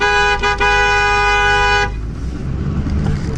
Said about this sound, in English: It don't work very good because I've honked so much at the cows.